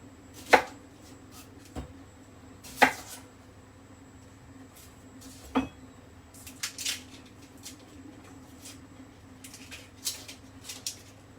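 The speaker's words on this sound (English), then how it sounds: "Chop these onions quite small." Onions chopped with a knife on a cutting board: a few sparse, sharp thuds spaced seconds apart, with lighter taps in between, close and quiet with no talking.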